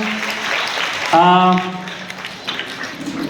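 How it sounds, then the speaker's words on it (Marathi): Applause bursts out at a school function honoring Lokmanya Tilak and Annabhau Sathe, a dense clatter of clapping that lasts about a second before a voice takes over and the room noise settles under it. "जोड दोघांसाठी जोरदार टाळ्या झाल्या पाहिजे"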